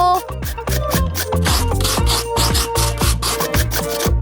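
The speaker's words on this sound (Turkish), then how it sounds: "tabii ki peyniri rendelememiz gerekiyor" Cheese grated on a tiny miniature grater in a mini kitchen: steady, close rhythmic rasping strokes repeating quickly throughout, loud and without speech.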